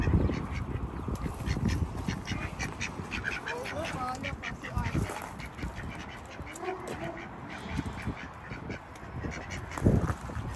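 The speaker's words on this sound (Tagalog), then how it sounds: "Daming ibon, oh. Hindi takot sa tao." Many ducks and geese at a sheep farm in Warkworth, New Zealand, quacking and honking in a busy, overlapping chorus at close to moderate distance, with people talking over the birds.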